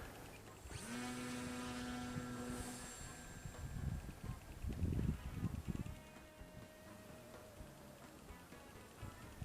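A small propeller motor on a foam RC plane whines up to a steady high hum, then fades as the plane flies off, with wind buffeting nearby.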